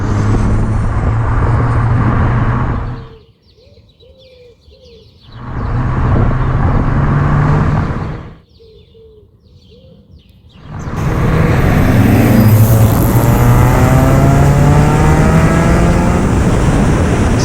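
A 500hp mid-engined Triumph Spitfire drives hard, its engine roaring loud and close in sustained bursts separated by quiet pauses, then climbing through the revs in a long final pull.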